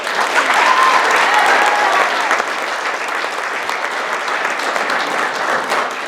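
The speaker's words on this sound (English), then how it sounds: "I want you to give a great big round of applause for Crystal Hetfield!" Audience applause for a comedian coming to the stage at a comedy class competition and showcase, a steady, loud wash of clapping with some crowd noise that holds for several seconds and eases slightly toward the end.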